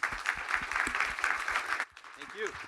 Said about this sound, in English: please give a round of applause to our first panel